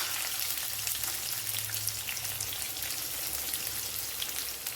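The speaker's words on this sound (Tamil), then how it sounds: "வெங்காயம் வதங்கட்டும்" Onions sauté in hot oil with curry leaves and chilli for beetroot poriyal, giving a soft, steady sizzle that sounds a little like light rain, close and unbroken.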